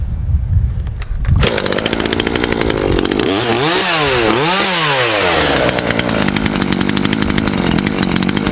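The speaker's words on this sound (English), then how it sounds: "make sure that it can idle and that the chain isn't moving" A Makita EA5600F chainsaw sits at idle outdoors in a Wisconsin winter, loud and close. It starts after a brief pause, rises through a couple of throttle blips, then settles back to a steady idle.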